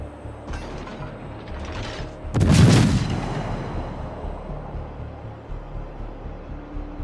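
Naval guns fire from warships in the World of Warships video game, with one loud, deep boom in the middle of the clip that rolls off slowly over low game background rumble.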